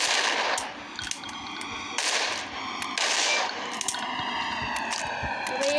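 Rapid gunfire bursts crack in a shooter video game during a headshot attempt, sharp repeated shots with wet impact squishes, loud and close throughout with no talking.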